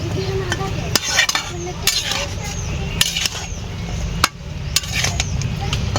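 A spoon scrapes and clatters against a pot as vegetables are stirred and mixed over a village stove, with a soft sizzle beneath the repeated knocks and occasional sharp taps on the rim.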